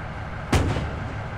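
One artillery gun fires in the military video game Arma 3, a single loud, sharp boom that rolls into a brief rumbling tail.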